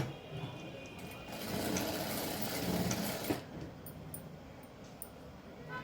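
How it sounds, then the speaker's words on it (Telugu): A sewing machine stitches a folded quarter-inch hem on fabric for a child's short blouse, a soft mechanical whir running for about three seconds before stopping, leaving quiet handling sounds. "ఇలా వన్ సైడ్ ఒక పావు ఇంచు ఫోల్డింగ్ అనేది పెట్టేసుకొని కుట్ అనేది వేసేసుకోవాలి"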